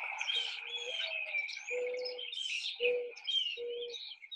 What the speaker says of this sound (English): They're called mourning doves not because they're out in the morning, like before afternoon, but it's mourning as in grieving.